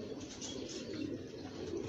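A pigeon's soft, low cooing murmurs steadily, close by, against a faint background hiss.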